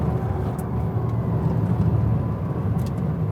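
Steady low roar of a 1900hp Pininfarina Battista electric hypercar at speed, a continuous drone of motor and road noise heard from inside the cabin, with no talking.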